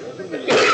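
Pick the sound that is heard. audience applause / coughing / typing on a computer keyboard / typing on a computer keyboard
coughing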